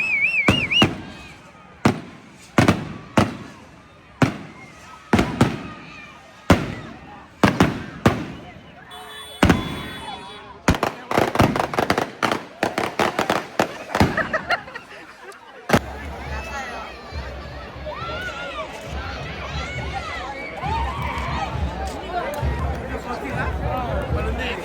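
Firecrackers set in a sand-filled drum burst at a dargah procession in Kadapa, a rapid series of loud, sharp cracks and bangs followed by a dense crackling barrage, with crowd chatter and voices around them.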